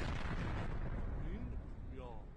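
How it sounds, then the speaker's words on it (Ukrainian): Loud explosions at military sites in Isfahan, Iran, at night: a heavy, continuous booming rumble that fills the whole moment and slowly fades, with a voice briefly audible underneath. "жителів міста Ісфахан у центральному Ірані розбудили гучні вибухи"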